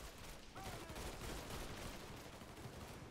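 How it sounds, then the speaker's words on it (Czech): Gunfire in the Mafia 3 video game comes as a faint, dense burst of rapid shots under a steady noisy background. "Kde se střílí?"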